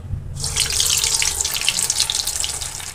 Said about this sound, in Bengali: মিডিয়াম ফ্লেমে আমি এটা ফ্রাই করে নেব